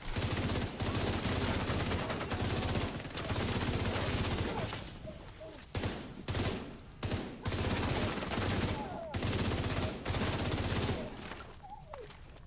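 Loud sustained automatic gunfire in The Division 2, with magazines emptied in long continuous bursts broken by brief reload gaps before firing resumes, close and dense.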